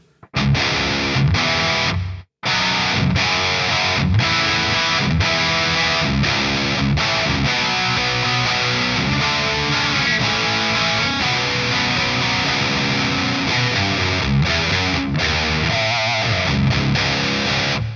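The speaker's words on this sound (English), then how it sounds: "let's kick on that reverb" A distorted electric guitar plays through a Revv Generator 100R MK3 amp with its reverb knob turned fully up, a washy reverb tail, chords ringing out with brief pauses between phrases.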